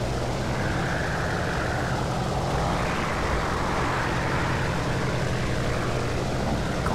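Aircraft engines run up one at a time in War Thunder, a steady, dense propeller drone with a low rumble that stays loud and even from start to finish.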